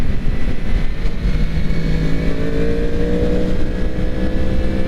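Intake noise from a 2022 Yamaha MT-10 SP motorcycle being ridden: a loud, steady engine drone with a rising tonal whine, and no one speaking.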